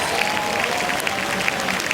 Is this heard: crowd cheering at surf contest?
yes